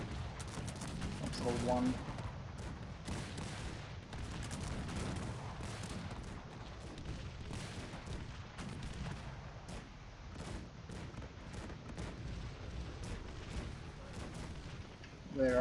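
Dense, continuous battle din of volleyed gunfire and artillery booms in the strategy game Cossacks 3, rumbling steadily throughout with a voice speaking over it.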